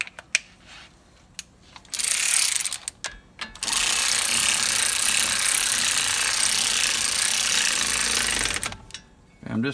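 A ratchet tightens the hub bearing bolts on a 2005 Ford F150 5.4 4WD. Close, loud ratcheting comes in a short burst, then runs steadily for several seconds and stops abruptly. There is no talking.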